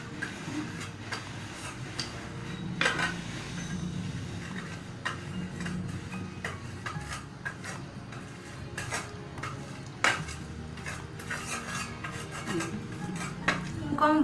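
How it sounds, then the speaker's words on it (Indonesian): Tapai yeast being pounded fine, repeated irregular knocks and grinding rubs against a bowl or mortar, close and fairly quiet, with a low steady hum beneath. "Selanjutnya, tumbuk ragi tape hingga halus."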